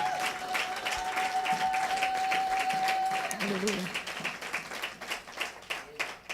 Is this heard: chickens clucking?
no